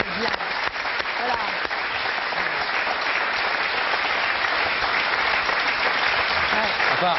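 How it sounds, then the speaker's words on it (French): A studio audience applauds steadily throughout at a French television broadcast, dense sustained clapping at close range with no break and no voices rising above it. "On peut l'applaudir, il est bien."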